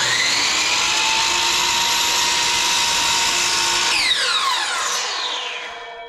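A power saw set to a 12-degree angle cuts wood for a farmhouse-style end table. A loud, steady motor whine holds throughout, then the pitch sweeps down as the blade slows near the end.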